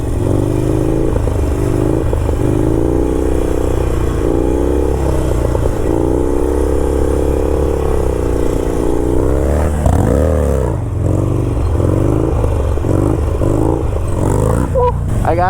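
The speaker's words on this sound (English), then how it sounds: "burnouts with some front brake going in a circle" A motorcycle doing burnouts in a parking lot with the front brake held, circling: a loud, close engine revs steadily for the whole stretch, its pitch rising and falling as the throttle is worked.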